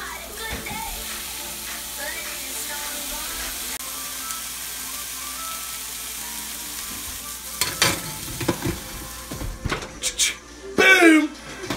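A sauce cooks down in a pan with a soft, steady sizzle and bubbling throughout, joined later by clattering kitchen knocks and bursts of a voice nearby.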